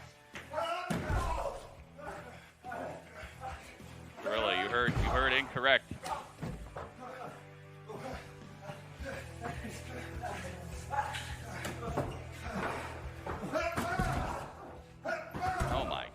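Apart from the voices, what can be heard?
wrestler slammed into a door on TV broadcast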